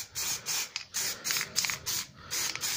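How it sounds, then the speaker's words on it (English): A spray can puts a light coat of anti-rust grey primer onto motorcycle parts outdoors: a series of close hissing bursts, each about half a second long, separated by short pauses and steady in rhythm. "Just have it done in anti-rust grey primer just to smarten it up a little bit."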